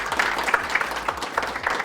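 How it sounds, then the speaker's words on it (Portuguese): A small studio audience on a talk show claps for a violinist guest, a brief burst of scattered, moderately loud hand claps with a faint low hum beneath. "Uma salva de palmas para o Matheus."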